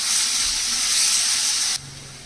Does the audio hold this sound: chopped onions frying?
yes